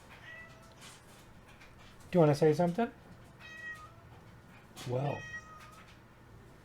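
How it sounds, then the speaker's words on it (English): Ruby, a pet cat, gives a chattering run of meows and then a second shorter meow, close and clear, while a person speaks quietly in between. "Maybe y'all can hear my kitty whispering."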